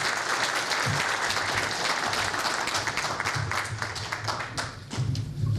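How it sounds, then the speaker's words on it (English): A crowd at a 2019 federal election all-candidates forum in Yorkton applauds with loud, continuous clapping from many hands, holding steady for several seconds with occasional dull thumps mixed in. "And please, everyone give a round of applause to Randy Atkinson."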